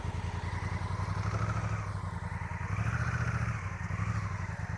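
A motorcycle engine drones steadily and fairly loud throughout a riding lesson, its revs surging and easing as too much throttle is applied, with no talk over it.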